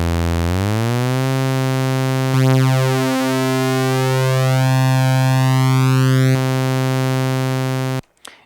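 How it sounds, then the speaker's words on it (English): Two Minimoog synthesizer oscillators sound loud and steady, sweeping smoothly upward in pitch and then holding a bright, buzzy sustained tone with rich harmonics before cutting off abruptly. "So there's oscillator 2, here's oscillator 3."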